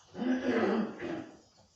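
A teacher giving a sixth-grade lesson lets out a short, rough, throaty cough, close and moderately loud, trailing off into quiet.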